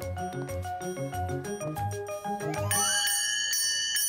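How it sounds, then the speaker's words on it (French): Bell rings out in a children's cartoon, bright repeated chimes sounding over a bouncy musical score, then settling into sustained ringing tones near the end. "c'est moi qui vais faire sonner la cloche"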